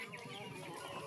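Farmyard chickens at a rural provincial home cluck and chatter in a dense, faint, continuous jumble, with steady background noise throughout.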